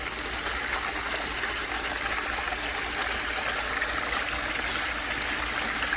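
Water running steadily through a sluice box washing Home Depot sand, a continuous close rushing and trickling flow with no talk.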